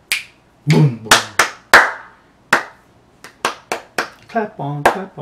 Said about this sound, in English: Clap on, clap off, clap off.